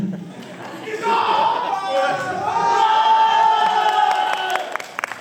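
An audience at a live dance show whoops and cheers for a dancer. Scattered voices swell into a loud, sustained roar of shouts, with a few claps fading out at the end.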